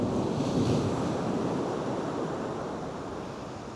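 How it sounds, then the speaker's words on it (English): Ocean surf rolling onto a beach during a fishing trip, a steady broad roar of breaking waves mixed with wind buffeting the microphone, close and continuous with no voices. "there is quite a surf down here"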